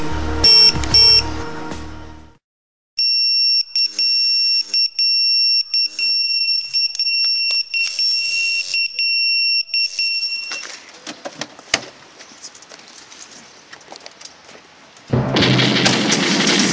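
Pager alarm alerting the crew of an SBB fire and rescue train, a steady electronic tone with sharp steady pitches sounding for several seconds after a brief burst of other noise, followed by clattering and a loud rush at the end.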